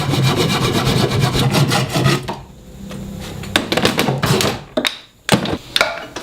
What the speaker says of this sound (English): So I'm just going to have to hand saw through this, but thankfully it's not too thick